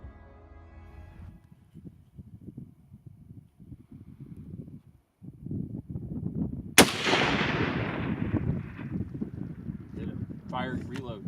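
A rifle fires once at a desert sheep during a hunt: a single sharp, loud crack with a trailing echo midway through, set among wind noise and quiet talking before and after.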